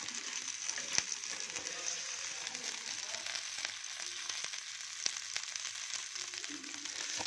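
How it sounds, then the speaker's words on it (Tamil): Sankara fish fries in oil on a flat dosa tawa, giving a soft continuous crackling sizzle with a few sharp ticks and pops scattered through it, fairly faint and unbroken. "நல்லா எண்ணெய் மேலே விட்டு விட்டு நல்லா தவாவில் போட்டு நல்லா எடுத்துக்கலாம் பொறிச்சு எடுத்துக்கலாம்"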